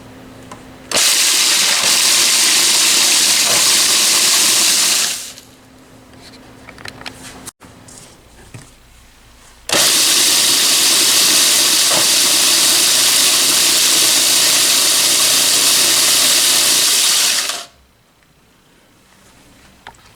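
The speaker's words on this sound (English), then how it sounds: "we're going to now pulse this to a very small crumb" A food processor pulses a spiced sweet potato pie crust mixture down to small crumbs in two long, loud bursts of steady whirring, each separated by a quieter pause with faint clatter.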